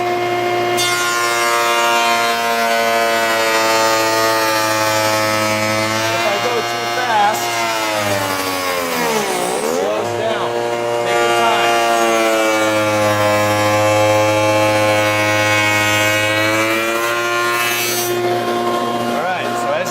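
Power saw mounted as a tool attachment, cutting through wood; a loud steady whine with strong harmonics that dips sharply in pitch as the motor bogs under load midway, then recovers and runs on.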